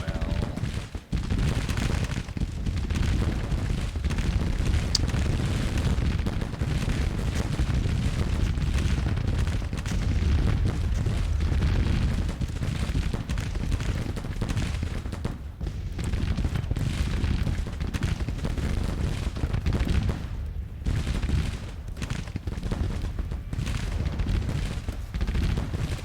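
Dense rolling musket gunfire and booming artillery from a Civil War battle game, continuous and loud with overlapping volleys and occasional deeper blasts throughout.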